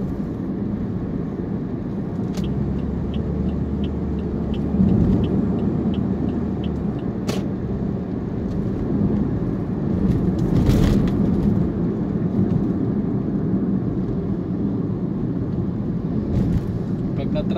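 Slow road traffic on the NLEX expressway near Meycauayan, a steady low engine rumble and road noise heard from inside a vehicle, with occasional faint clicks.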